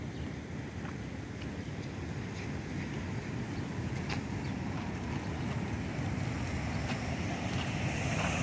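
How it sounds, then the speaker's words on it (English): A waterfall at Wadi El Rayan in Fayoum gives a steady, broad roar of falling water, heard alongside wind buffeting the microphone, continuous throughout with no talking. "And now we're approaching the waterfall."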